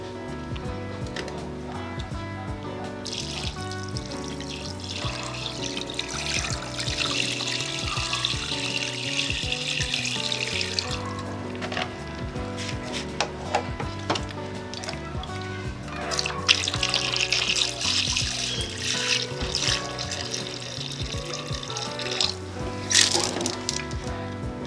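A vinegar and water solution is poured over rusty gym plates in bursts of splashing and trickling, with dripping and small clinks between pours.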